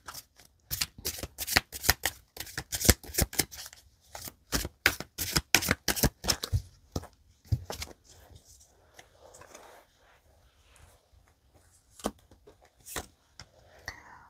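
Tarot cards being shuffled by hand, rapid crisp riffles and flicks in quick bursts up close, easing into scattered softer taps and slides.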